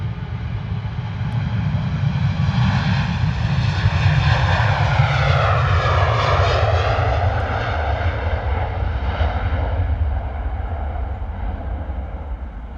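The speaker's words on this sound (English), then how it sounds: "Ryanair rolling long." A Ryanair jet on its takeoff roll at London Stansted gives a loud, sustained engine roar with a rising and falling whine as it passes, then eases off slightly toward the end, with no talk.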